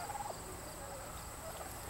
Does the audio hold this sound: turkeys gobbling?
yes